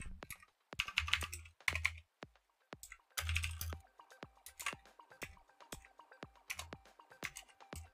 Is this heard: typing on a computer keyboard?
yes